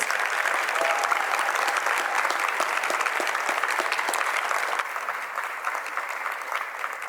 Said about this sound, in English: Give that choir one more round of applause, please.